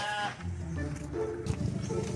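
A sheep bleats in a wavering cry at the start, and then more bleats follow among background noise and muffled voices.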